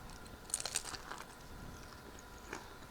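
Close crunchy bites into a corned beef taco, a few sharp crackling bursts clustered early and another near the end, over a quiet kitchen background.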